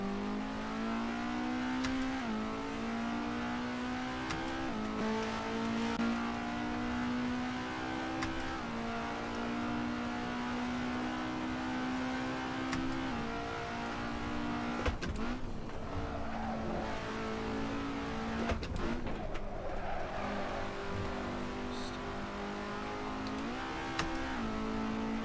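A race car driven hard on a track in Assetto Corsa, a loud, continuous engine wail that climbs through the revs, drops on each gear change, and ends in a brief burst of tire noise.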